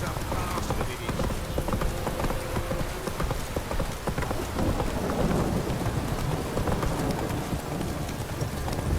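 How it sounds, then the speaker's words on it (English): Heavy downpour in The Witcher 3 game world: dense, steady rain hiss fills the scene throughout, with horse hooves clopping and low thunder rumbling beneath it. "This downpour's a bastard, it is."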